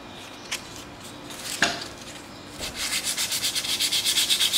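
A metal motorcycle triple clamp is rubbed by hand with 320 grit sandpaper, starting with a few scattered scrapes and then settling into a quick, rhythmic back-and-forth rasp that grows louder and close up.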